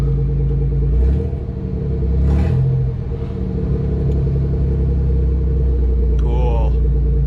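A 1994 Pontiac Trans Sport minivan engine idles with a loud, steady low rumble, a couple of brief swells in pitch, and a voice talking over it near the end.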